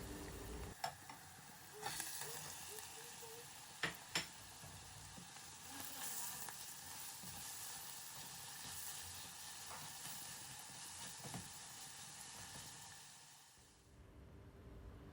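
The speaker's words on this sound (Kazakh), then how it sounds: "Оның артынан тартылған етті салып қуырамыз." Minced meat sizzles and fries in hot oil in a deep pot or kazan, added after chopped onions for a buckwheat dish; a steady close crackling sizzle with a few sharp stirring clanks, fading out near the end.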